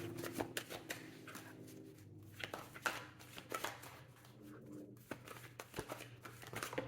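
Tarot-style cards shuffled and picked from a deck, soft repeated riffling and flicking taps close by, fairly quiet, with light handling rustle throughout.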